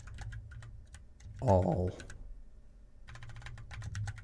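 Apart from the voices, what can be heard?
typing on a computer keyboard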